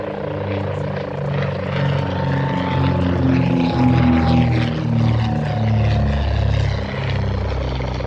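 A de Havilland Comet racing aircraft roars past in a low pass at an air show, its piston engine drone loud and steady as it swells, peaks and slowly recedes.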